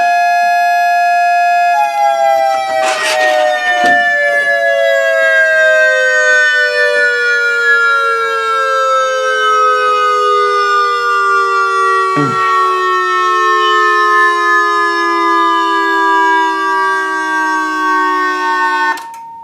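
Whelen siren speaker driver winding down, a loud steady electronic tone gliding slowly lower in pitch for nearly twenty seconds, close and alone, with a couple of brief clicks along the way.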